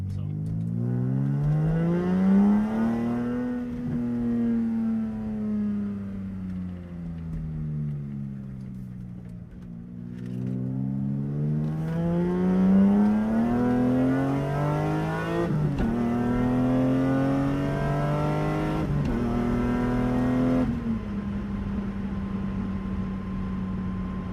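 Engine of a 1988 BMW E30 M3 fitted with an S54 engine, heard from inside while driving, rising and falling through several revving accelerations and gear changes, loud and steady throughout.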